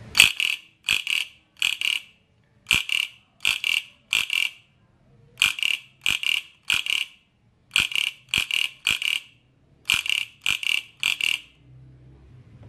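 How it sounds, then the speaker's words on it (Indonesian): A frog-shaped bell on a Phillips Torpedo onthel bicycle rings in quick bursts of two or three bright metallic dings, repeated in a steady pattern, close and clear with no talking. "Ini bel kodok ini jarang teman ya."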